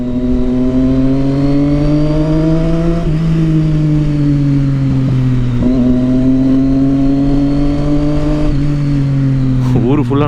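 A Triumph Street Triple motorcycle fitted with a Yoshimura exhaust rumbles loudly and steadily throughout, with the engine note shifting slightly as it revs. Throttle blips come near the end, and speech seems to run faintly beneath the engine.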